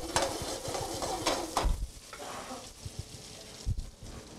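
Parsnips, turnips and mini carrots sizzle in a hot pan, with a steady close crackle broken by a few soft knocks and scrapes of stirring.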